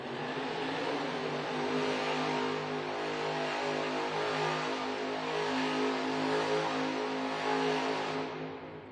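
The Megalodon monster truck revs hard in a sustained roar while spinning donuts in one spot at a Monster Jam arena event in Dayton, Ohio. The engine note stays loud and continuous, fading slightly at the end.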